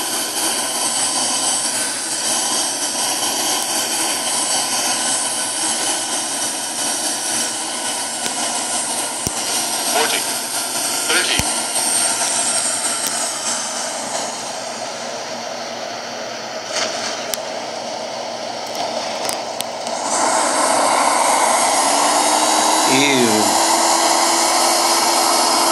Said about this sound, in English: But we're landing.